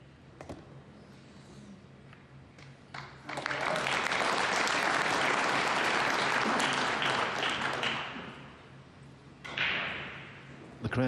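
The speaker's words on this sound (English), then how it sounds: "crowd applaud" A crowd at a pool semi-final between Fedor Gorst and Niels Feijen at the US Open Pool Championship breaks into sustained applause lasting several seconds, then fades, with a smaller burst of clapping near the end.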